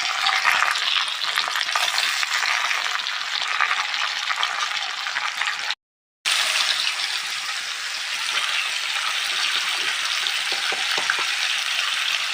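Chicken sizzles loudly in hot mustard oil with browned onions, a dense, continuous frying hiss with stirring, close and steady throughout apart from one brief cut.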